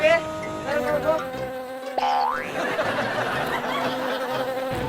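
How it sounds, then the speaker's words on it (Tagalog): A large bee buzzes close by, its droning hum wavering and swooping in pitch as it moves, with a brief rising whine midway and faint chuckles in the background. "Ang laki ng bubuyog!"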